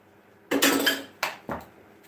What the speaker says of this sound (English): let me just scrape off my spoon.